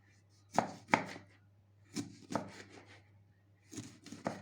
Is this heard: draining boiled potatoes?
no